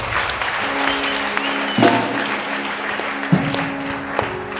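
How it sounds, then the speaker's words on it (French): A congregation at a special church worship service claps together, a dense ongoing patter of hands with a few sharper accents, heard from inside the room. "Acclame très fort pour le Seigneur."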